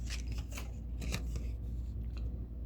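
Tarot cards riffled and drawn from the deck in a run of quick crisp flicks and slides, close and fairly steady, with no voice over them.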